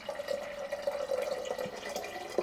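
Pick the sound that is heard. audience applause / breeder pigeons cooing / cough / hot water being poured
hot water being poured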